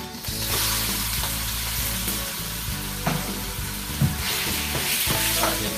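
Beef and bean chili ingredients sizzle steadily in a hot wok, with the clack and scrape of a stirring utensil landing as a few sharper knocks amid the continuous frying hiss.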